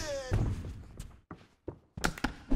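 Kicks land in the EA Sports UFC 2 fighting game as short, muffled thunks and thuds. Several separate impacts come in quick succession at a moderate volume, with gaps of near-silence between them.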